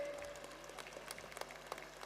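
Applause from the audience at a school annual function, faint and distant, with scattered claps standing out over a low hum for about two seconds.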